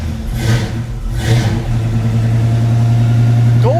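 A classic gold car's engine revs in two quick surges and then settles into a loud, steady running hum while the car backs out of its spot, close and continuous with no voices over it.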